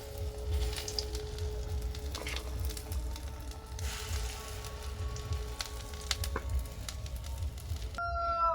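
Egg and onion fritters fry in hot oil with a steady, dense sizzle and crackle that holds throughout, close and fairly loud, with a few small clinks of a utensil near the end.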